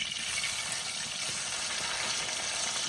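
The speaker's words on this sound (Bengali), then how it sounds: "মাছগুলো এবার উল্টিয়ে দেবো। মিষ্টি আছে মাছ ভাজলে মাছ ভাজা সুন্দর হয়" Bata fish frying in a pan during village cooking: a continuous, quiet hiss of sizzling oil, steady and unbroken, with no voices.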